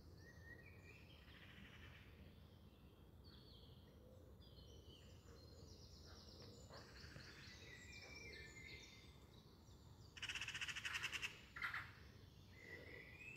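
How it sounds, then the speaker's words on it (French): Birds call and chirp outdoors during a guided meditation, a scattering of faint, distant tweets and trills over quiet background ambience, with a brief louder burst of song near the end. "Les oiseaux nous accompagnent."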